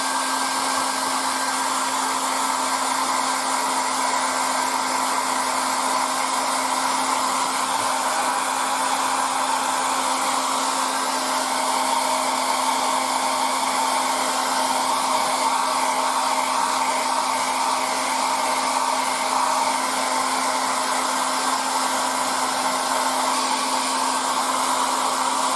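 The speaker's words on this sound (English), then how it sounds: "a little with the air dryer." Air dryer blowing on fresh green paint on a 1:35 ICM Panzerspähwagen P204 (f) model tank, a steady, close whirring roar with a constant hum, unbroken for the full length.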